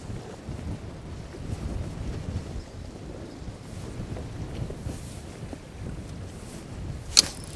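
Strong 30 mph wind gusts on a fishing boat on Green Bay buffet and rumble continuously across the microphone, with low booming surges and a sharp knock near the end.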